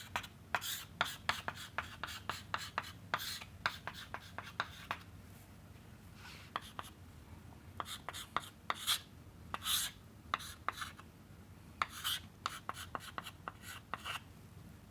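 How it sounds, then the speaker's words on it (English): A pen scratches out a factorial equation, with quick, faint strokes and taps in irregular bursts and short pauses between them, close up in a quiet room. "So let me write it down."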